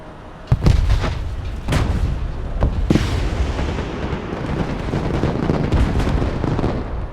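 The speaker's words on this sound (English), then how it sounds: "look at those missiles streaking in" Missiles streaking in and exploding in the video game Broken Arrow: several sharp booms and cracks early on, then a continuous rumbling roar of artillery-like fire.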